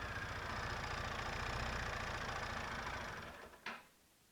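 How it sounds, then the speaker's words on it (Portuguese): Motorcycle engine idling steadily up close with a rattling gear noise, a continuous mechanical chatter that cuts off near the end as the engine shuts down. "vou dar uma partidinha na moto, de novo, pra ver se o barulho vai sumir"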